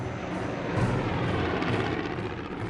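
Arriving aircraft carrying fresh pilots from Japan to defend the Philippines in the Second World War: a continuous, droning engine roar at moderate distance, steady and unbroken, with no voices.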